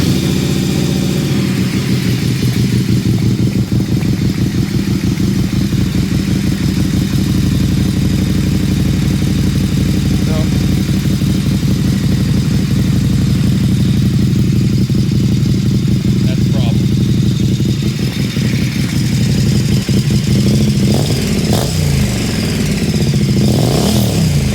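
A KTM 1090 Adventure R motorcycle fitted with a GRmoto eBay exhaust runs steadily and loudly up close with a deep, throbbing idle and occasional rev swells, heard continuously throughout.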